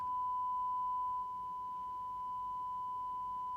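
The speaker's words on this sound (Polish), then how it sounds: "mamy sinus 1 kHz i zobaczcie co się dzieje w chwili, kiedy pojawia się przesterowanie" A steady 1 kHz sine test tone plays through the Match and Morel car audio system of a 2021 Ford Transit Courier, continuous and loud, with a slight level change as clipping distortion sets in.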